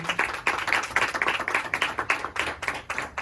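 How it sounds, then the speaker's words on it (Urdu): A church congregation claps together at a Sunday service, a dense, steady burst of many hands at close range that runs for several seconds with no talking over it. "خدا یسوع مسیح کے لیے اور پاک روح کے لیے ہم زوردار تالیاں دیں"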